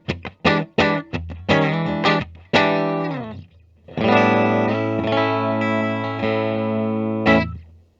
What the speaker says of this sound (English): So it's definitely making it more single coil-like, but judging by the readings, it's not completely splitting it